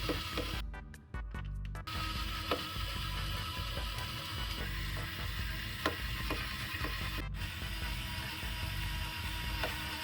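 A screwdriver backs out the screws holding a PC motherboard backplate, producing quiet ratcheting clicks in a quick burst early on, then faint scattered ticks over a steady background hum.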